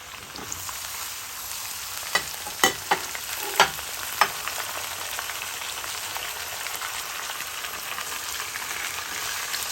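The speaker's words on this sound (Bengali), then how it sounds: "সবজিগুলো একটু হালকা করে ভেজে নেব এই ফোড়নের সাথে" Vegetables such as potol and potato frying in a spice tempering for a Bengali labra curry, a soft steady sizzle with a few sharp spatula clinks against the pan, quiet and close, no talking.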